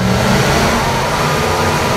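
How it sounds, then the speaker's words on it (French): A vehicle engine in the game Borderlands 2 suddenly roaring to life, a loud, steady, dense revving drone held for two seconds. "son moteur il s'est réveillé d'un coup chez moi"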